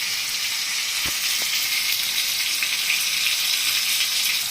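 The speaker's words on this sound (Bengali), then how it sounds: "এটার মধ্যে একটু জল দিয়ে মশলাটাকে এখন আমি মিক্স করে নিব ভালো করে।" Potatoes and spices sizzle loudly in a pan after water is added, giving a dense, steady hiss with a couple of sharp clicks near the start and no talking.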